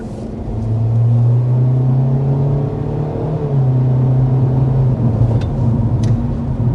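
A 2025 Kia K4 car accelerating at half throttle, a steady mid-pitched engine drone that rises gradually and holds, fairly close and clear, with no talk.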